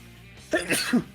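A single short, sharp sneeze burst close by, preceded by a quiet room tone.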